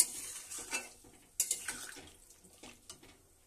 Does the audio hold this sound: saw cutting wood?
no